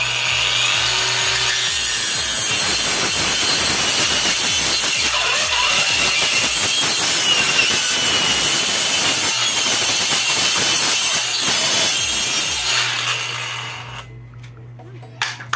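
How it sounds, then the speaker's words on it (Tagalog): A cordless angle grinder cuts through bamboo at full speed, loud and close. The motor whines and grinds harshly for about thirteen seconds, then spins down and stops, leaving a few faint clicks. "Subukan natin naputulin dito yung kawayan. So ito siya, no? Naka full speed tayo dito sa ating angle grinder."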